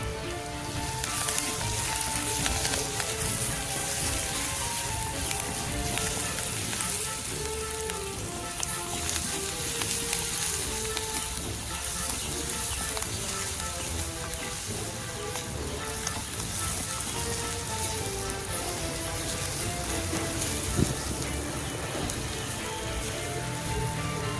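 Shallots frying in a pan of oil with a pinch of salt give a steady, close, even sizzle that crackles continuously for the whole stretch, with no talk over it.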